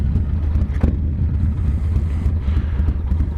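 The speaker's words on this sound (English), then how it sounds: "why is the bastard glide spitting and popping all of a sudden?" Harley Glide motorcycle engine running while riding, a steady low rumble with irregular spitting and popping pulses and one sharper pop near the start, close and fairly loud with no talk.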